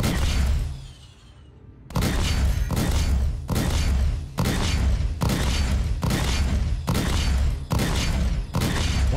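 Rapid gunfire in the video game Star Citizen, a run of loud, booming shots in an irregular series of bursts after a brief quieter lull, close and dominant.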